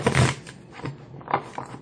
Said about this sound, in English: Shuffle a couple times, and then we're going to pull four tarot cards